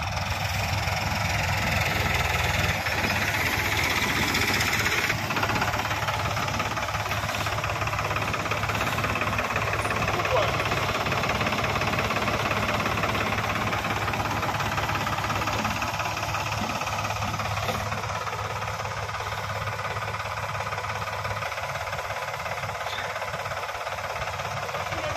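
Farm tractor engines, including a Farmtrac 45, idle and run close by, a steady, loud diesel chug with knocking vibration that carries on without letup.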